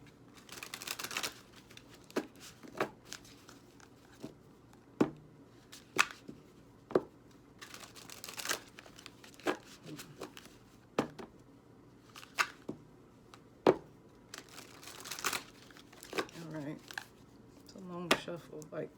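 Tarot cards being shuffled by hand, giving repeated sharp riffling snaps and taps at irregular intervals under steady talking throughout.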